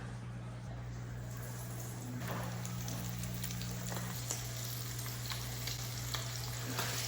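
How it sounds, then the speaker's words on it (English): Fish crisping in a very hot pan, a steady broad sizzle with a faint low hum underneath and no talking, constant in level throughout. "We're going to throw this fish in and get it nice and crispy."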